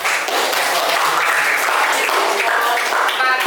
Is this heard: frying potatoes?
no